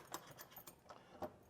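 Small metal key jangling and clicking against the lock of a 1967 Ford Mustang GT Fastback, a few quiet scrapes and taps spread unevenly, close up with no voices.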